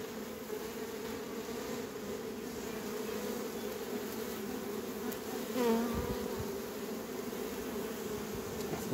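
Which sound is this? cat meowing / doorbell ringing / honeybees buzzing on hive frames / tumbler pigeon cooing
honeybees buzzing on hive frames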